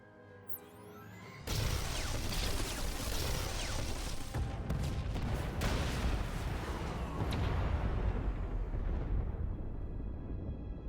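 Heavy explosions erupt in Star Wars: The Old Republic as junctions are blown, a loud sustained roar of blasts and crashing debris after a brief quieter lead-in, slowly easing off toward the end.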